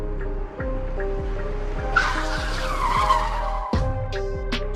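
A car brakes suddenly with a long tire skid and squeal over a low engine rumble in an animated horror story. A sharp thump comes near the end.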